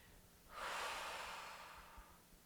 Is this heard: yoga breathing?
yes